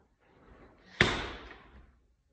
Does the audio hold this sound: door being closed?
yes